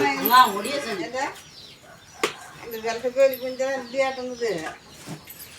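Hens clucking nearby in a rural household yard, a few short bursts between and under conversational voices.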